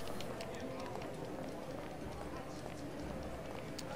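Galloping horses thunder through a live horse race in the video game GTA Online, a dense continuous drumming of hooves under people talking and game noise.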